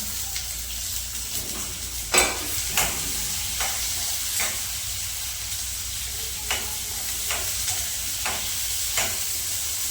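Garlic sizzles in ghee on a stove, a steady hissing fry broken by a few soft scrapes and stirring knocks against the pan, close and fairly loud with no voices.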